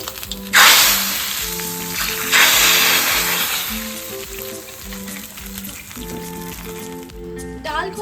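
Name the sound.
dry red chillies sizzling in hot oil for dal tempering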